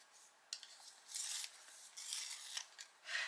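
A brown coloured pencil is sharpened in a small sharpener, giving quiet, close scraping and rasping strokes in a few separate bursts.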